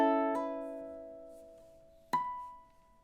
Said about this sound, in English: this is an artificial harmonic where we're still fretting the